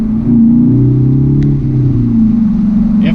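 A 2019 Hyundai Veloster N exhaust booms loud and close from inside the cabin while accelerating, a deep droning growl whose pitch rises and dips as the engine pulls.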